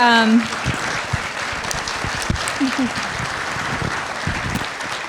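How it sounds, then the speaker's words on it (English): A crowd at a community forum on election trust applauds the moderator and panelists with steady, dense clapping, a voice trailing off at the very start before the applause continues alone. "Let's give them a round of applause."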